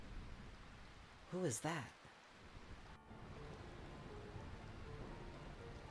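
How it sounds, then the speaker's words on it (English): Soft, steady rain falls in the video game Final Fantasy IX, a faint even hiss throughout, briefly interrupted by a spoken voice near the start. "I find this rain quite pleasant."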